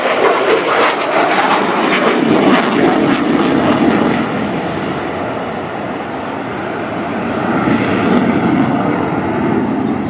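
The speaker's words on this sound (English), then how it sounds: "rapidly execute two high-performance turns, demonstrating the Super Hornet's agility" A US Navy F/A-18 Super Hornet jet roars through two high-performance turns at a beach air show, its loud, sustained engine rumble swelling and easing continuously across the whole stretch.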